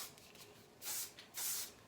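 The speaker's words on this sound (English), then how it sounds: "you take your brush, you take some hairspray, and you're gonna spray a little bit" Hairspray hisses onto a makeup brush in two short, close bursts, separated by a brief pause, with no talking.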